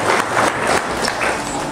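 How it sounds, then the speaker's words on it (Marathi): An audience at a kirtan in a Maharashtra village claps loudly together, a dense, steady burst of applause from a crowd close by. "एकदा जोरदार टाळी वाजवा"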